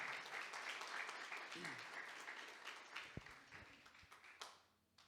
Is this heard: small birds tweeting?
no